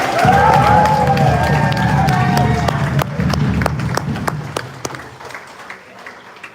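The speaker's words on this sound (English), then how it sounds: "One more time, a round of applause for Tagata by Saute." Crowd applause for the Tagata Mai Saute performers at a 2024 Hawaii event, steady and loud over a low musical hum, then thinning into scattered claps as it fades.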